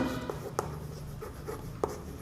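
A pen or marker writing the name of a chemical compound on a surface during an organic chemistry lesson, making faint scratchy strokes with a few small taps, close and quiet.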